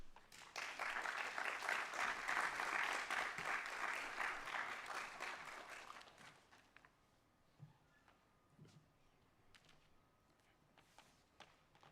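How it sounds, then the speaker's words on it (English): An audience applauds after a conference speech on African responses to global vulnerabilities: dense clapping for about six seconds, then fading to scattered claps and light movement. "I simply want us to maybe give another round of applause to Professor Kalu"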